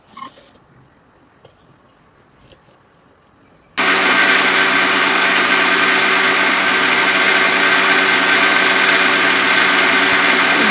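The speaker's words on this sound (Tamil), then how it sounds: "இது கூட பட்டர் சேர்த்து மிக்ஸி ஜாரில் அடித்து எடுத்துக்கலாம்." A mixie jar grinder blends cooled butterscotch ice cream mix with butter, switching on abruptly after a quiet stretch and then running as a loud, steady, high-pitched whir to the end.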